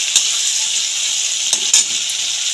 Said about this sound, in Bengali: নাড়িয়ে চড়িয়ে ভেজে নেব একটু টমেটোটাকে।